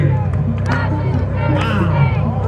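A lively crowd at a Manhattan Knicks watch party claps and cheers in a steady, dense roar, with voices shouting and chattering throughout and a slight swell near the end.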